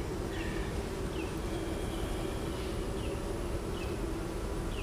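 Honey bees buzz steadily around an open hive during an inspection, a continuous close insect drone with a few higher chirps and faint passing tones over it, and no talk.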